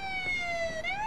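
Wailing emergency siren with a steady, rising and falling tone, clear and fairly loud on a street, heard without any talk over it.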